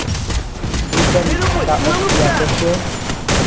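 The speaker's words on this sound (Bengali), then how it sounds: "এদিকে একটা গ্রেনেড মারার চিন্তা করি তারপর দেখেন গ্রেনেডটা মারছি" Gunfire crackles in rapid bursts during a Free Fire match after a grenade is thrown, the shots coming in clusters over background game noise with a player talking.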